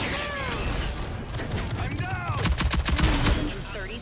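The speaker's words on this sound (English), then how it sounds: "we gotta try this fucking rocket launcher" Rocket launcher fired in the Rogue Company shooter game, heavy blasts and gunfire bursting amid chaotic battle noise, loudest toward the end, with players talking over it.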